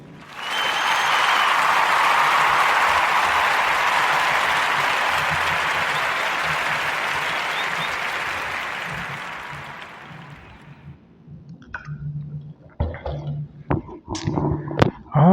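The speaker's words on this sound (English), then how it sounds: "we're going to give you a warm round of applause" A warm round of applause on a podcast, a loud, full burst of clapping that swells quickly, holds steady for about ten seconds, then fades out into scattered sharp sounds.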